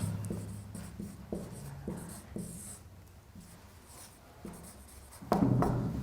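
A pen writes an office name on a formal letter, making close, soft scratching strokes in a steady rhythm of short bursts, with a louder rubbing scratch near the end. No voices.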